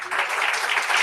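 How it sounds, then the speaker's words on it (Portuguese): A church congregation breaks into applause for Jesus during a service, a short, dense, steady burst of many hands clapping together, fairly loud and filling the room, with no talking. "Dê um aplauso a Jesus."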